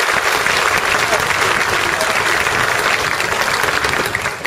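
Warm audience applause at a 2010 election campaign speech by a mayoral candidate on Andros, Greece: dense, steady clapping from a large crowd that holds loud and even throughout, dipping only slightly at the very end.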